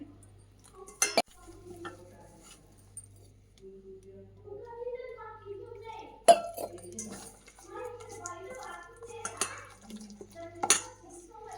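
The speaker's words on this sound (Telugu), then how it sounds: "దాంట్లో కొద్దిగా వాటర్ వేసి కలుపుకోవాలండి" Quiet clinks of a utensil against a bowl as cauliflower 65 batter is mixed with water come in scattered taps while someone talks softly, with a faint low hum running underneath.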